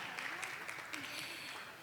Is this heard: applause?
yes